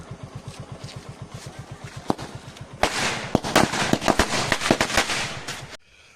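Firecrackers burst in a quick volley of sharp, loud cracks and pops, set off to celebrate a retirement, after a steady, rhythmic engine-like puttering that fills the first few seconds.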